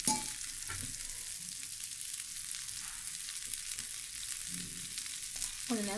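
Dosa batter on a hot pan with oil gives a bright, continuous sizzle and crackle, close and fairly quiet, with a few soft scraping touches and no speech.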